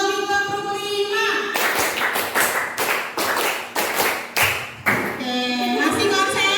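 Group hand clapping in counted rhythmic patterns during a classroom clapping game, with sharp, dense bursts of claps in quick sets in the middle, framed by a voice calling out the counts before and after.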